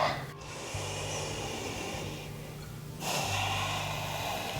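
Deep breathing during a yoga forward fold in a beginner balance and core class, slow audible breaths through the nose, close and soft over a low steady hum.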